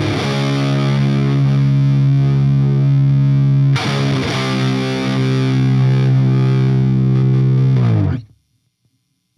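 A Les Paul guitar running through a SoloDallas Orbiter fuzz pedal rings out in two long, thick, saturated chords. The second is struck midway, and both sustain loudly before cutting off abruptly near the end.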